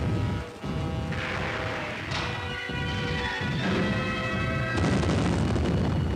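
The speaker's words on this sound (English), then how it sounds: "Careful. Grenade, Lorimer." A grenade explosion in a 1943 British Army training film, a heavy sustained roar and rumble of battle noise with crashing bursts, loud and dense throughout, no talking.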